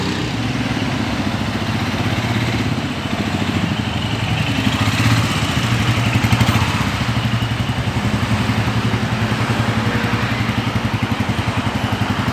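A Royal Enfield Himalayan motorcycle's single-cylinder engine running steadily nearby, a loud, even, throbbing idle with a slight mechanical clatter and no talking.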